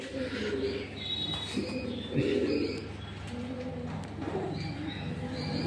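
Several pigeons coo in soft, rolling bursts, close by and overlapping, with faint chirps mixed in, on the upper floor of a pet shop in Kolaghat, West Bengal.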